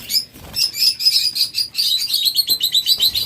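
Busy, high-pitched chirping and twittering of several small pet budgerigars, continuous and close, with rapid overlapping calls and no talking.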